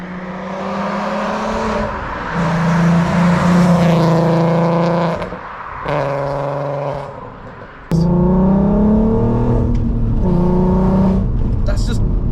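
A Volkswagen Golf R32 MK4 with a VR6 engine pulls hard while driving, its rising growl dropping at each gear change from second to third, loud and close inside the car.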